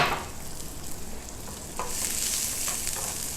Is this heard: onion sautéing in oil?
yes